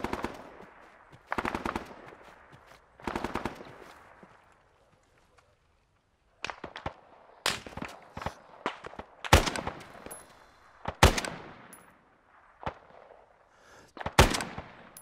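Machine gun fire in the Vietnam War game ARMA 3 S.O.G. Prairie Fire, rapid bursts of automatic shots in several separated volleys, some sharp and close, others dropping to quieter stretches between, with no talking.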